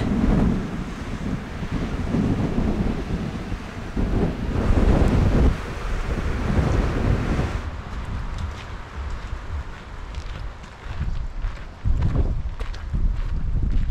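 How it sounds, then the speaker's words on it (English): Strong wind buffets the microphone on a cliff-top walk above the sea near Lloret de Mar, a steady loud roar with gusts and faint surf underneath, no talking. "Look, the flag's all blowing in the wind."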